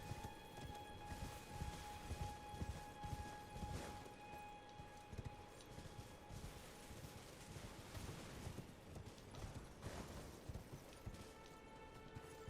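Horse hooves galloping in the Elden Ring video game, a steady rapid clip-clop running continuously at moderate loudness over a busy mix of game music and ambience, with no talk.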